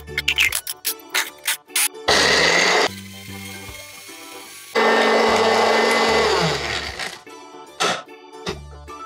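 A kitchen blender grinds cold eggshells into fine powder in two long loud whirring runs, separated by pauses filled with knocks and rattles from shaking the jar, with no one talking.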